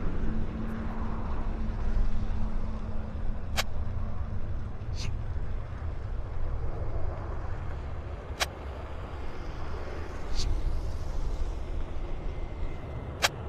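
An airliner climbs away from Vancouver Airport, a steady, broad engine roar from a distance holding for several seconds amid outdoor ambience, with faint voices talking nearby.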